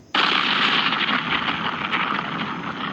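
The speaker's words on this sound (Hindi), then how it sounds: "बहुत बड़ा धमाका हो गया होता है" A loud blast erupts suddenly and sustains as a broad, roaring rumble that slowly fades without dying out.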